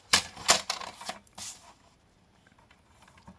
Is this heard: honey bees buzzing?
no